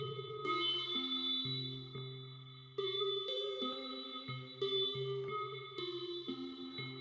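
A synth on an iPad runs through resonator, filter, reverb and frequency shifter effects, playing a repeating sequence of sustained, shimmering metallic tones with a new phrase every couple of seconds and a ringing tail, with no talking.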